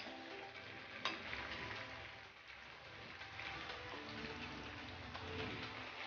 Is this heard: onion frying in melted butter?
yes